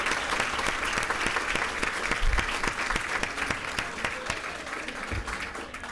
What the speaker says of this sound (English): let's give them a round of applause to acknowledge their commitment